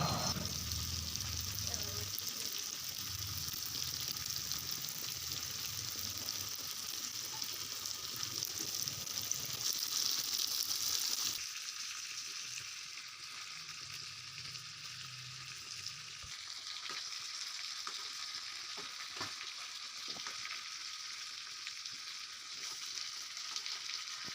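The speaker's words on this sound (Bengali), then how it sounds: "এইভাবে আপনারা ভালো করে ভুনে নেবেন আর সবসময় নাড়াচাড়া করতে হবে" Chicken frying and being stirred in a pan for a dark bhuna, a steady low sizzle with faint scraping, fairly quiet throughout.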